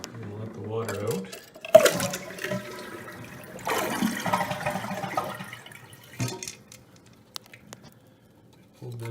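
Toilet being flushed to drain the tank during a repair, with water rushing and gurgling in bursts and scattered clunks of handling close by.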